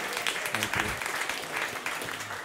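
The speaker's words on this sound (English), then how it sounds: "Can we get another round of applause?" Audience applause fills a room at a candidates' forum for the Manly seat in the 2023 NSW state election, a steady broad clatter of many hands, with a voice briefly speaking over it.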